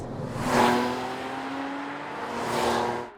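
A Porsche Cayman R engine pulls hard through the gears, its rising growl swelling, easing and swelling again in steady surges, fairly close and clear with no talk over it.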